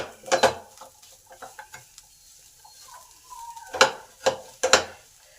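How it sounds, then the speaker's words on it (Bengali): A spoon stirs cauliflower samosa filling mixed with mashed potato in a pan, sharp scraping clanks against the metal in bursts with quieter shuffling and faint sizzle between, close and without speech. "এবার এই সমস্ত কিছু একসঙ্গে ভালো করে মিশিয়ে নেব।"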